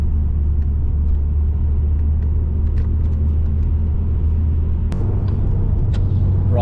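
MG ZT 190 cruising on a motorway, carrying extra weight, with a loud steady low engine and road rumble filling the cabin and occasional light rattles and ticks, no talking.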